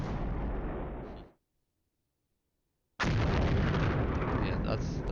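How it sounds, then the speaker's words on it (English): Artillery firing in the wargame Flashpoint Campaigns: Southern Storm, heard as two heavy, loud rumbling blasts, the first dying away into silence and the second bursting in after about a second and a half. "that's our artillery firing"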